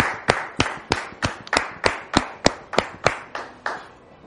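A studio audience at a French-language talk show claps to welcome a guest: about a dozen sharp, evenly spaced claps in steady unison, close and clear, with no voices over them.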